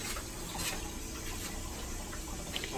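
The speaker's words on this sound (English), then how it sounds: "So, we are going to pour the water on top." Water is poured on top of food in a cooking pot during Turkish-Transylvanian fusion cooking, a steady, continuous rushing splash that stays even and unbroken throughout.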